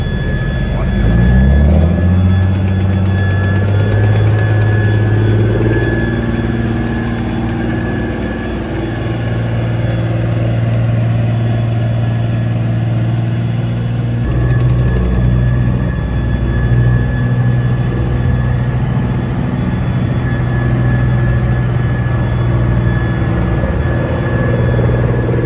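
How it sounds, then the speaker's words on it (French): An EBR armoured reconnaissance vehicle's engine drones steadily as it drives during a demonstration of French armoured vehicles, a continuous low rumble with a shifting pitch partway through, loud and sustained throughout. "Un véhicule de reconnaissance, un EBR."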